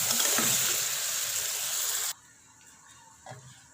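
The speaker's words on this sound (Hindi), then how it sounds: "इसको अच्छी तरह से 5 मिनट भून लेंगे।" Desi chicken frying in a pan gives a loud, steady sizzle for about two seconds, then cuts to a quiet background with a faint stir near the end.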